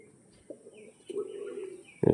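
Pure Chennai breeder pigeons coo in a low, rolling burr, with a short throaty call early, a sustained purring stretch in the middle and a louder close burst at the end.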